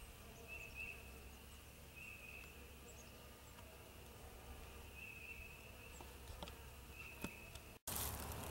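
A steady, low buzz of overwintering honey bees hums continuously, like many bees droning together at a hive in February, fairly faint and even, with a brief cutoff near the end.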